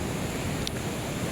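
A river rushes at night during rain, a steady broadband wash of flowing water filling the background, strong and continuous.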